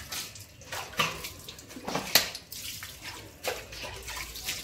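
Dishes and pots being washed by hand under running water in a home kitchen, with steady splashing, gushing water and occasional clinks of utensils throughout, no talk.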